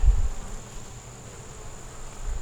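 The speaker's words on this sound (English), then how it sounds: "this one here just got some bees on it so far" Faint, steady honeybee buzzing hums throughout, like bees at a hive nearby, with a low rumble at the start and end.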